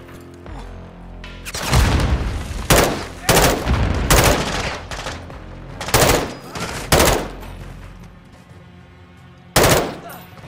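Call of Duty Modern Warfare 2 combat brings loud bursts of automatic gunfire and heavy blasts in repeated clusters, close and punchy, with short quieter gaps between volleys.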